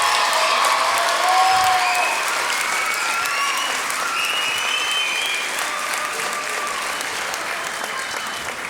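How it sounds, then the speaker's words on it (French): Audience applause at an evening circus and music show, loud sustained clapping from a sizable crowd that swells early then slowly tapers. "Un grand applaudissement s'il vous plaît."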